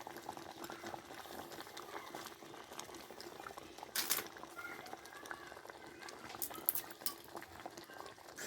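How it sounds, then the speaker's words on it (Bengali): Vegetables for moong dal simmering in a pot, a faint steady bubbling with occasional clinks of a utensil against the pot, no voices. "এই দেখুন আমার সবজিগুলো একদম ফুটে সেদ্ধ হয়ে গেছে"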